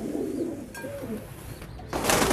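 Pigeons coo softly at close range, with a burst of hissing spray noise toward the end.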